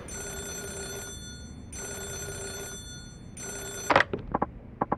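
Telephone ringing in the Yakuza 0 video game: three long electronic bell rings with pauses between, followed by a few short clicks.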